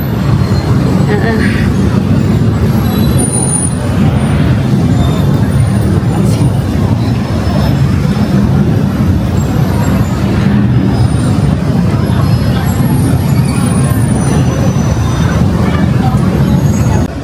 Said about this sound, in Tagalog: So we're waiting for the train going back to the hotel.